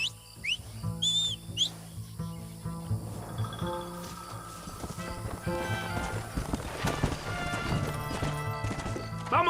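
Rhythmic hoofbeats of a galloping horse with a brief whinny in the video game Red Dead Redemption, layered under an energetic orchestral score and occasional shouts.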